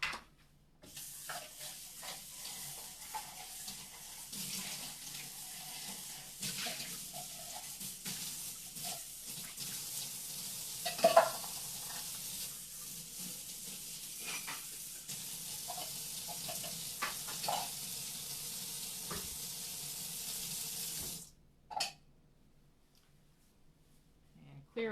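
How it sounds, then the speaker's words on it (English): Tap water runs steadily into a cast iron pan as it is rinsed, a close, even rush with clatters and splashes, lasting about twenty seconds before it shuts off. "so let me rinse this out."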